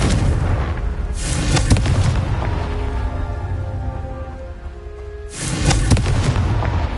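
Two loud booming blasts of the Confringo spell in Hogwarts Legacy, one at the start and one near the end, separated by a lower rumbling stretch with game music.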